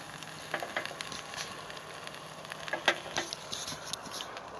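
Bacon and sausages frying for breakfast outdoors: a quiet, steady sizzle with small irregular pops and crackles, close and soft, with no talking.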